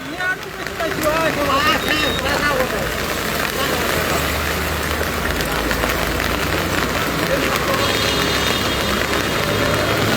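Steady heavy rain drums on surfaces along a road in Digha, with an engine idling underneath, while voices talk over the downpour throughout.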